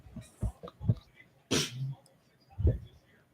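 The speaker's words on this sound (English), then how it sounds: "this is the politest sneeze I've ever seen from a 4-year-old" A five-year-old girl holding a microphone gives one small, soft sneeze amid faint breaths and quiet vocal sounds, close but low in level.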